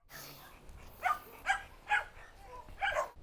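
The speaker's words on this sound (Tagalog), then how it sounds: "Palagi siyang tumatahol." A dog barks repeatedly at a steady pace, with four or five sharp, fairly close barks spaced about half a second apart. A short gap comes before the final bark.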